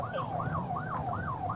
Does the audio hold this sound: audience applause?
no